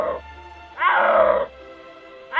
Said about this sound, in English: The first time I heard a snow leopard roar